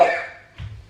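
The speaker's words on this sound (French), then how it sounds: "Ah ouais, ça te fait tousser" A child coughs once sharply and close, a harsh burst that fades, followed by a lower, softer throat sound a half-second later.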